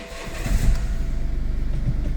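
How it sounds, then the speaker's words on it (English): A BMW 2 Series F45 engine, just repaired after a water-damaged engine control unit, cranks and catches, settling into a steady, rhythmic low idle close by, with no talk over it. "Car is working."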